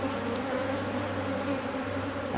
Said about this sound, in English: These bees are just really gearing up.